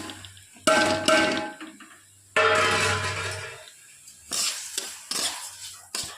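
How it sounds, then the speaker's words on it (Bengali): Salted rice is dry-fried in a kadai. Loud bursts of scraping and rattling from the stirring utensil against the metal pan come in uneven strokes, with short quiet gaps between them. "2 মুঠো চাল আমি নুন দিয়ে মেখে এটা কড়াইতে দিয়ে ভেজে নেব"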